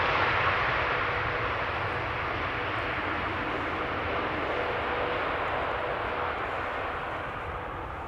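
Boeing 737-800 airliner arriving at Amsterdam Schiphol, a steady broadband jet roar that fades slightly toward the end, heard from a distance without pauses.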